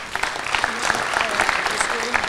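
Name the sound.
audience applause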